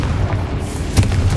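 Confringo blasting spell from Hogwarts Legacy goes off as a loud, continuous booming rumble, with a sharper burst punching through near the end of the short clip.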